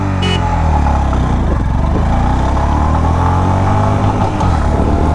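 A 2024 Honda CB350 motorcycle accelerating hard on the road, its engine note loud and close, climbing steadily through the revs with a brief horn-like tone at the start.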